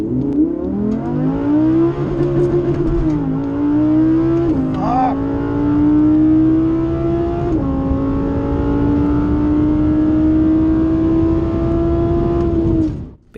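A 2nd-generation Audi R8 V10 launches down a drag strip, its engine note climbing through the gears near and loud, with one shift pause partway and a long sustained high-rev pull before cutting off.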